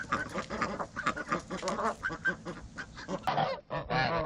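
Geese on a farm honk repeatedly in a loud, busy chorus, close by, with overlapping calls throughout and no talking.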